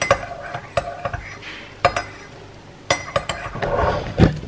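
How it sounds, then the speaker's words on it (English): A spoon stirring lemon juice and honey in a cup, clinking against the sides in a few distinct taps followed by a brief swirl of scraping, close and fairly loud. "And then give it a stir."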